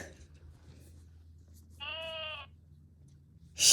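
A children's toy animal-sound piano plays a single electronic sheep bleat lasting about half a second, clear and moderately loud over a quiet background hum.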